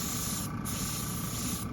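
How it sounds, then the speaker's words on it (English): An airbrush sprays paint over frisket masking on a comic book sketch cover, a steady close hiss that holds throughout with slight dips, no voices. "I'm kind of spraying this over the Frisket, which is over the characters"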